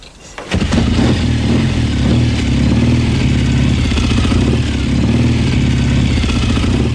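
A motorcycle engine fires up and settles into a loud, steady, rumbling idle, close by.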